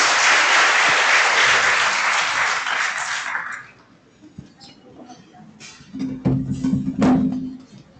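Audience applause at a general membership meeting, dense loud clapping that fades out after a few seconds, followed by a speaker's voice and a few soft knocks and rustles.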